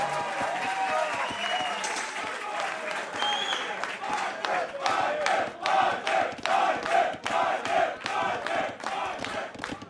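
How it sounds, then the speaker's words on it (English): Applause and cheering from an esports crowd at a LAN quarterfinal rise steadily into loud, dense clapping that grows stronger toward the end, with a commentator's voice running underneath. "The crowd is loving it."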